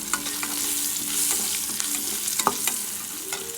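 Gongura chutney ingredients with turmeric fry in a pan, a steady sizzle under scattered scraping stir strokes and light clinks, close and alone with no talk.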